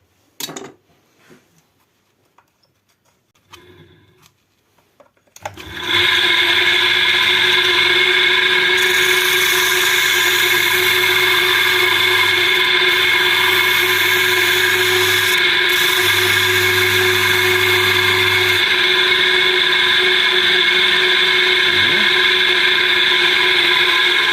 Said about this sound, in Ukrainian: запускаємо станок в іншу сторону